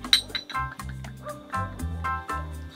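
Drinking glasses of soju and a sweet drink clink together in a toast inside a Hyundai Palisade during winter car camping: one bright, ringing chime near the start over a steady low hum.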